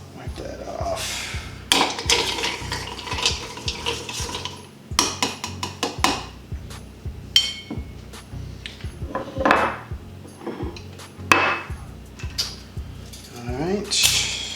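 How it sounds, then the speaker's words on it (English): Homemade falernum liqueur stirred in two containers, giving a busy run of clinks, knocks and scraping taps against glass and wood, loud and close, with brief pauses between bursts. "Now we're gonna give them both a stir."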